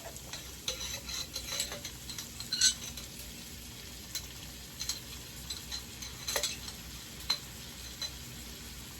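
Onions and minced garlic, with celery, sizzle softly in a pan for Southern-style smothered pork chops. A steady frying hiss runs under scattered utensil scrapes and taps, close and fairly quiet, with no talking.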